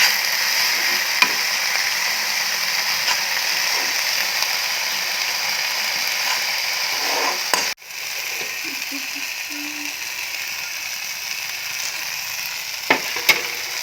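Fish seasoned with salt and turmeric sizzles steadily in a hot pan while being stirred, with a continuous close frying hiss broken by a brief pause and occasional scraping clicks of the spoon.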